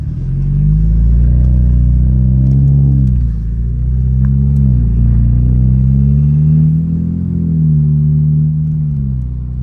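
A BMW with a full M Performance exhaust line and muffler delete rumbles loud and deep close by, its pitch rising and falling through several rev swells.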